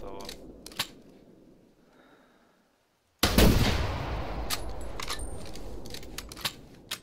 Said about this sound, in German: Ich glaube, das war ein saumäßiger Schuss.